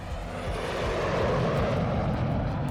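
An airplane sound effect gives a loud, steady jet engine roar with a low rumble that swells slightly and holds throughout, with no voices.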